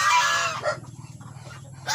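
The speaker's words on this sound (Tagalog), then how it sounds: "Gansa. Oo, gansa." A goose on a farm in San Felipe, Naga, Camarines Sur, Philippines gives a loud, close honk, falls quiet amid faint background murmur, then honks again sharply at the end.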